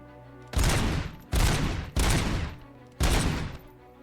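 Four loud gunshot bursts from RoboCop's weapon in RoboCop: Rogue City, each a sharp blast with a decaying tail, spaced roughly evenly across the stretch with a low ambient hum between them.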